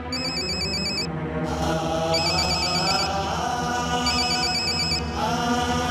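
A household telephone rings in repeated electronic trill bursts, with short gaps between them, over a background of music in a comedic Ufone mobile commercial from Pakistan.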